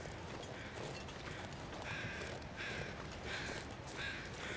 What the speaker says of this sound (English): I hear you, crows. I hear you.